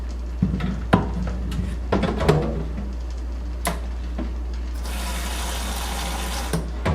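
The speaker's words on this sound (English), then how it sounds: "I'm going to add water." Water pours into a cooking pot for Afang soup, heard as a broadband hissing rush in the later seconds, preceded by scattered clinks and knocks of the pot over a steady low hum.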